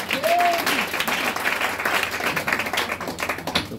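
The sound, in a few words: congregation applauding to acclaim the word of God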